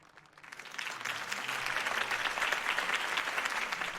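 Applause from a crowd in the Batman Telltale Series video game, swelling from quiet into a dense, sustained clapping that holds steady at moderate loudness.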